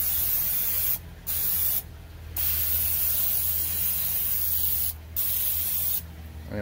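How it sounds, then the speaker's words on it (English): Pam cooking oil sprayed onto smoker grates in several long hissing bursts, close and loud, with short pauses between them. "I'm just going to spray all my grates."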